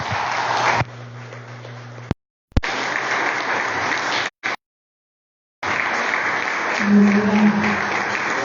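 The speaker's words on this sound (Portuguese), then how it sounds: "Vamos aplaudir ao Senhor nosso Deus, meus irmãos." A church congregation applauds in praise during a worship service, bursts of dense clapping broken by abrupt silences, with a low musical hum underneath in places.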